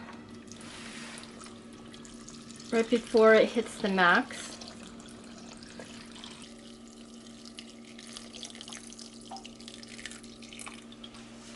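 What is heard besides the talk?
water filling a pressure cooker pot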